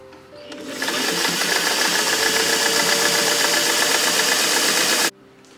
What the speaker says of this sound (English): I'm going to sew the front and the back separately